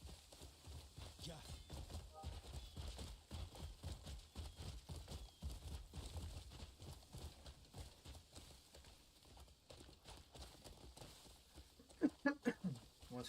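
Horse hooves clip-clop in a steady rhythm while riding in the video game Crimson Desert, with a burst of sharper, louder steps near the end and a voice talking over parts of it.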